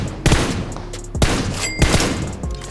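Gunfire in the video game PUBG: several sharp, loud shots at irregular intervals, close and punchy, with no talking over them.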